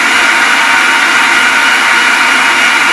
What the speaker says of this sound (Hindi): थोड़ा मिक्सी में चला लेंगे